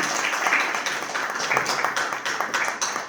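An audience at a New Year 2026 celebration program applauds, a dense patter of many hands clapping at a steady, moderately loud level throughout.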